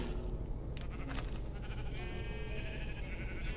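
Sheep in the Minecraft video game bleat a few times over a steady low game hum; the calls are short, mid-loud and close, and no one speaks.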